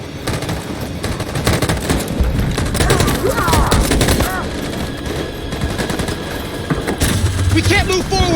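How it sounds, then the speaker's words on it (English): Machine gun fire rattles in rapid continuous bursts with booms and engine rumble in Detroit: Become Human, loud and close, while voices shout over the battle. "That machine gun is taking down everything that moves!"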